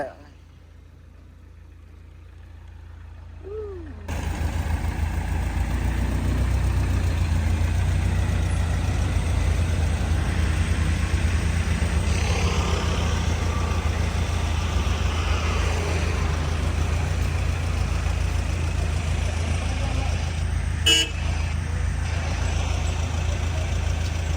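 Small car with a weak battery and parking lights left on, running after a start attempt outside a college: a steady low engine rumble begins abruptly after a quiet stretch and continues evenly, with voices at times.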